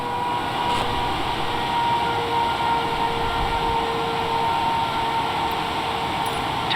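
An experimental aircraft taxis at night to General Aviation parking at San Francisco airport, with a steady loud engine drone and a faint tonal whine holding even throughout, close and with no talk.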